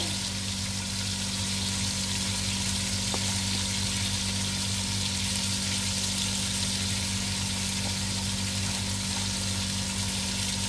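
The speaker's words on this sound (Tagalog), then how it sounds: "Mabango kasi pag ma-fry yung mga spices." Chicken frying with spices like hot pepper and garlic powder gives a steady, close hiss and sizzle that stays constant throughout, with a faint low hum beneath and no talking.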